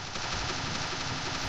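Rapid automatic gunfire in the mobile game Rope Hero: Vice Town, a dense, loud burst of shots from a police shootout filling the whole short stretch without pause.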